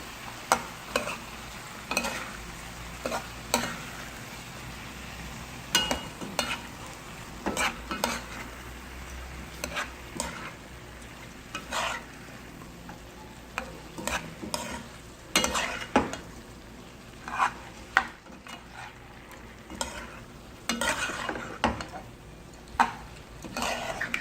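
Pumpkin being stirred into a pot of Trinidadian pigtail pelau with rice, a spoon scraping and clacking against the pot in irregular close strokes over a soft steady sizzle, no talking.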